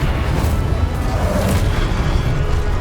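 An Incendio fire spell cast in Hogwarts Legacy, a loud sustained whooshing, rumbling burst of flame that fills the clip with dense low roar.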